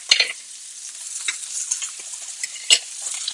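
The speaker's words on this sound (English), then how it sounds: "And now it's time to add some butter to our beef." Butter sizzles around beef sautéing in a pan, a steady close hiss with a few sharp utensil clinks and scrapes, no talk.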